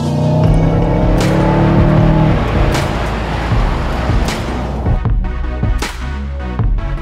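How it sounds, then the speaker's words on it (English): A 2019 Mercedes CLA accelerates hard, engine note climbing steadily through the revs, then shifting gears with a few sharp breaks as the loud, close drone continues. "you can just plant your foot in any gear and it just squats and goes."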